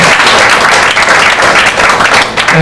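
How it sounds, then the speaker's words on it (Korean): A church congregation at a pastor's installation service claps loudly in welcome, a close, dense burst of applause lasting under three seconds. "우리 박수로 좀 환영해 주세요."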